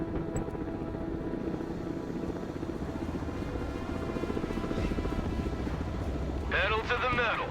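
Military helicopter in the video game Broken Arrow, a steady rotor chop and engine drone running throughout at moderate loudness, with game radio voices and effects briefly on top near the end.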